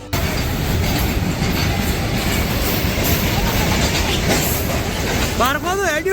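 Loud, steady rumble of a train rolling in, with clattering wheels and a rising metallic squeal near the end, close and continuous.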